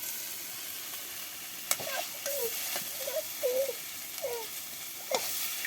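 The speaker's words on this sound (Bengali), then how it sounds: "কষানো হয়ে গেছে, এবার মাছ দিয়ে দিলাম" Fish added to oil with spices fried down for a village-style curry, giving a soft, steady sizzle with a few sharp spatula knocks and faint tonal squeaks.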